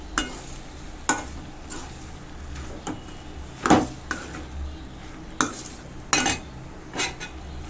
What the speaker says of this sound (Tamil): இது நல்லா மிக்ஸ் பண்ணி விட்டுக்கோங்க.